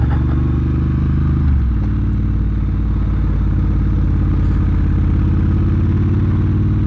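Triumph Bobber motorcycle being ridden in cold weather, a loud, steady low engine rumble heard up close, with a slight dip and shift in pitch early on and constant wind-like noise on top.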